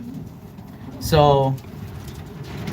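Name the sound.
racing pigeons cooing in a loft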